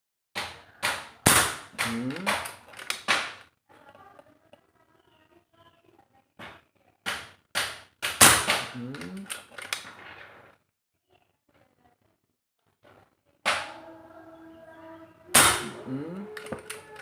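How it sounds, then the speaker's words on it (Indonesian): A Daystate PCP air rifle fires a series of sharp, close test shots in quick clusters, each a crisp snap followed by short quiet gaps, with occasional speech in between. "Saya tes tembak lagi."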